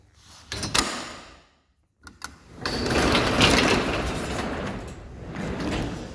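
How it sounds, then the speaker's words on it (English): A garage door of a new multi-purpose barn being opened, with a couple of clunks, a brief pause, then a long rolling rumble as the door slides open, close and fairly loud. "I'll open the door and show you."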